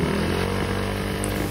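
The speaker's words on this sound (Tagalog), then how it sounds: "Pakinggan nyo yung tunog ng makina." A Honda Mio i 125 scooter fitted with a 160cc big bore kit idles steadily, its engine droning loud and close without a break and still running a little rough.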